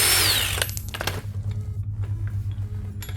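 Metal tools clatter and clink while a nut is worked loose from a Smart Fortwo shock absorber during replacement, with a brief buzzy power-tool burst at the start and a steady low hum underneath, close and fairly loud.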